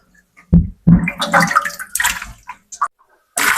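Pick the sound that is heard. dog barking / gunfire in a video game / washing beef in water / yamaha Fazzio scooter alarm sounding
washing beef in water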